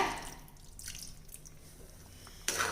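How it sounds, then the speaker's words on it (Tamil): Tamarind water pours into a pan of drumstick thokku on a medium flame, giving faint liquid trickles and drips with a brief splash near the end. "இப்போ நம்ம கரைச்சி வச்சுருக்க புளித்தண்ணி இதில் சேர்த்துடலாங்க"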